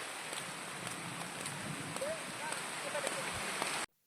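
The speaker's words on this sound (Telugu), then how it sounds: "ఇంత వర్షంలో ఇదిగోండి గైస్ వర్షం చూడండి గైస్ అలా వస్తుందో" Steady rain falls in a rural village, a dense even hiss with scattered drop patters and faint background chirps, continuous and fairly close before cutting out abruptly near the end.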